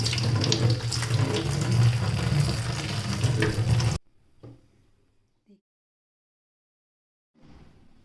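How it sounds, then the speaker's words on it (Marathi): Greens being washed in salt water under a running tap; a steady rush of water for a few seconds, then it stops, leaving a few faint handling sounds and quiet gaps. "स्वच्छ चांगली मिठाच्या पाण्याने धुवून काढायची."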